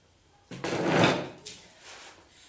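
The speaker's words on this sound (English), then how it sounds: "So let's get rid of the chair" A chair dragged or shifted aside on the floor during a home pregnancy workout, one scraping, rustling burst of about a second followed by a softer second shuffle, fairly close with no talk.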